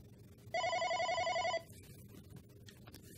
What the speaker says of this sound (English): I wait for the call to start ringing